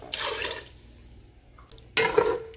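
Water splashes and trickles into a pot of okra soup with snails in two bursts, a short pour, a pause with faint drips, then a louder gush near the end.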